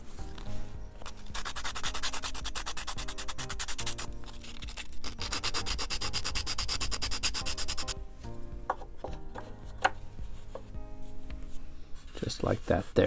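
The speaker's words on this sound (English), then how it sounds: "let's go ahead and sand this off a little bit." Balsa wood on a Balsa USA Smoothie RC plane wing is sanded by hand at the aileron servo mount, giving close, steady rasping strokes in two long bursts, followed by scattered taps and handling knocks.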